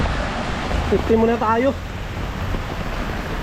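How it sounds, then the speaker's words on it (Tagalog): Heavy rain and wind outdoors in Canada make a steady broadband wash of noise throughout, while a person speaks briefly over it near the middle. "Ang lakas ng ulan guys."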